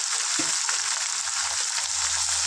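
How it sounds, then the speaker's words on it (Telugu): Fish pieces, korameenu, frying in oil in a pan over a medium gas flame, giving a steady, close, bright sizzle that holds evenly throughout with a soft stir or bump early on. "ఆయిల్ కొద్దిగా పోసుకొని వేడి చేసుకొని పీసుల్ని చిన్నగా ఇందులో వేసుకొని ఫ్రై చేసుకున్నాం"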